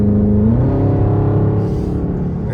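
A straight-piped Dodge Scat Pack car engine revs loudly and close by, a deep rumbling growl that climbs in pitch early on and then holds a steady, throaty drone.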